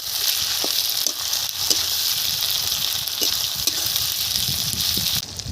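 Chopped tomato frying in a pan for a fish curry gives a steady, close sizzle. Faint clicks of stirring run through it without a break, and no one speaks.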